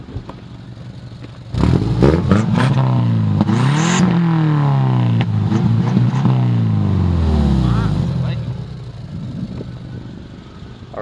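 A 2000 Subaru Outback with a custom exhaust revs up loudly from a quiet idle, its engine pitch sweeping up and down several times before settling back to idle, with people talking over it.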